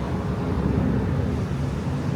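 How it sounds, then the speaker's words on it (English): A large aeroplane passes overhead at a beach resort, producing a steady, broad, low roar mixed with wind-like rumble that stays fairly loud and continuous throughout, with no talking. "That's a big ass aeroplane."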